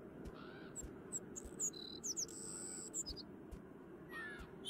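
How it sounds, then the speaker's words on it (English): Bird calls in a wintry setting in the video game Beyond Eyes: scattered short chirps and tweets ring out over a steady low ambient bed, some sharp and fairly close, others softer. "What the hell is a bird doing here in the middle of winter?"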